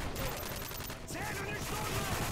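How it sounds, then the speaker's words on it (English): Dense gunfire in Call of Duty Modern Warfare 3 multiplayer, a continuous loud barrage of rapid shots filling the whole stretch with a brief dip midway. "This guy was shooting around the corner before I even came around."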